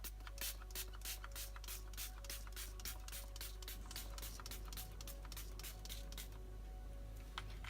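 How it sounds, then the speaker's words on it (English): Trigger spray bottle misting bleach onto a T-shirt, a quick run of short hissing bursts in steady rhythm, close and fairly loud, with a faint hum underneath. "you lightly spray and just mist it over the area in the middle."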